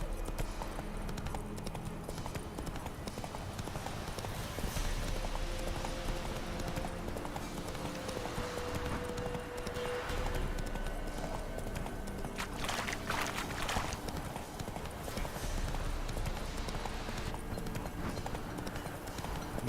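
Roach the horse galloping in The Witcher 3, a steady rapid clip-clop of hooves that continues throughout over a constant game ambience, with brief swells of other game sounds.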